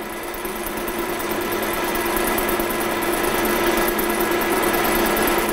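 Steady machine drone of a lathe taking a light facing cleanup pass of about 0.3 mm, a continuous even hum with high hiss, close and loud with no talk.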